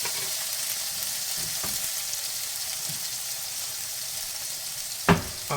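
Chopped tomatoes and curry leaves hiss in a hot pan, a steady close sizzle with a couple of sharp clinks of a utensil near the end.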